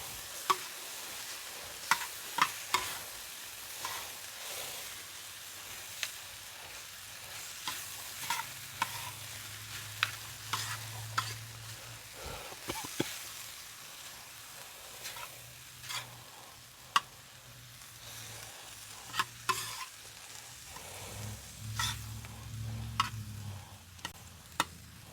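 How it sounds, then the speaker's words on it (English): Lo mein noodles tossed in a pan on a recteq Matador griddle for a salmon and shrimp stir fry, a continuous soft sizzle broken by frequent sharp utensil taps and clicks, no voices. "we're gonna toss these until our noodles start to loosen up"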